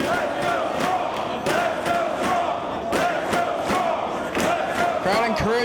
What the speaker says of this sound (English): Crowd encouraging Roderick.